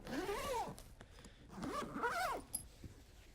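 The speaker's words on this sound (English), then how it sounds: "And you zip it up." A zipper on the carrying bag of a Benro MoveOver12 camera slider is pulled closed in two close, loud rasping strokes, followed by a small click and a soft handling sound.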